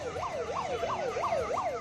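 Siren on an electric auto-rickshaw police patrol vehicle in Coimbatore, a steady rising-and-falling wail repeating about every third of a second, loud and close, with no talk over it.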